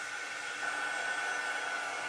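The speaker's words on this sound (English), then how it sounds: "This is our quick dry tool. It's not a heat gun. It's quieter than the hairdryer, which is why I'm using it." A handheld quick-dry craft tool, not a heat gun and quieter than a hairdryer, blows air in a soft, even hiss with a faint steady whine, continuous and close.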